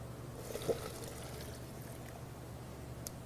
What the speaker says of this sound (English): we're going to add the water of another Thai coconut